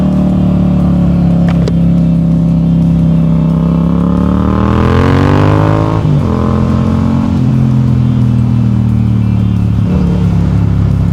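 A 2022 Yamaha MT-07 motorcycle with a loud, throaty Akrapovic aftermarket exhaust drones and accelerates, its pitch rising and shifting, heard close and steady throughout.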